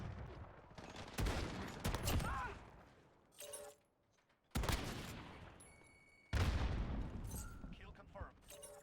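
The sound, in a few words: enemy sentry gun firing in a video game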